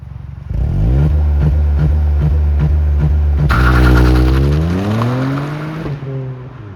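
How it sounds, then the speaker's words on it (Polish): Ford Fiesta ST Mk8 engine on launch control, bouncing rhythmically off the rev limiter in rapid stuttering pulses, then surging into a loud full-throttle rev that drops and rises again as the car pulls away. "Czyli teraz ta procedura startu jest uruchomiona. Powinniśmy wrzucić jedynkę, obie ręce na kierownicy, dodajemy gazu, poczekamy aż samochód troszkę zbuduje nam boosta"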